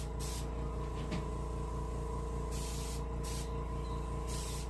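Paint sprayed from an airbrush onto a brook trout for taxidermy, several short bursts of spray hiss, close and steady, over a constant compressor drone.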